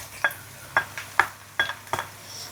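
Garlic dropped into hot oil after shallots, sautéing with a steady low sizzle under repeated sharp clinks and scrapes of a utensil stirring against the pan, about five distinct strokes in quick succession.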